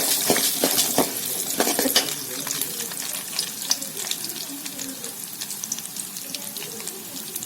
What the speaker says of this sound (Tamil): நல்லா வறுத்துக்கலாம்.